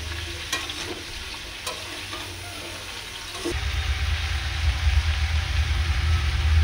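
Mixed vegetables fry in oil in a pan, giving a steady sizzle with a few scraping stirs, and the frying turns noticeably louder and denser partway through.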